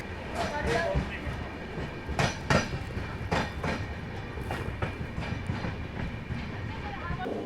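Ajmer Mysuru Express pulling out of Falna railway station, a steady rumble of rolling wheels with rhythmic clacks over rail joints, loud and close throughout.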